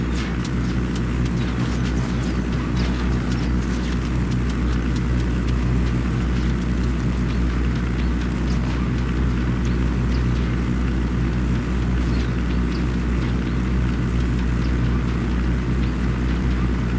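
A helicopter flies overhead in the video game Ghost Recon Wildlands, producing a continuous, steady rotor drone with a deep low hum and faint crackling gunfire mixed in throughout.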